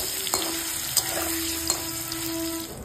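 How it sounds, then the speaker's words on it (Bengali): Paneer frying lightly in oil with salt and turmeric gives a steady soft sizzle, with a few sharp clicks of stirring spread across the clip and no talking. "ভেজে নিচ্ছি হালকা করে।"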